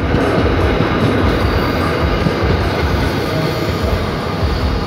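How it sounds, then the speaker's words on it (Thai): An SRT Red Line electric commuter train, a short trainset, runs past at close range, giving a loud, steady rumble with wheel and rail noise throughout, no voices. "ฮะก็ระหว่างที่เรารอด่วน83ออกนะมีรถไฟฟ้าสายสีแดงนะครับหรือน้องแดงหนูแดงนะผม"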